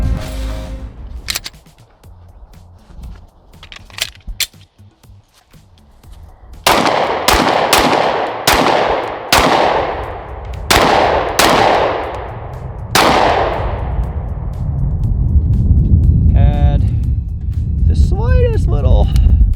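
A Lone Wolf Timberwolf 19X pistol fires Remington 115 grain ammunition at an outdoor range, loud sharp shots in an irregular string, some quickly spaced, with a few quieter pops and steady background noise between them.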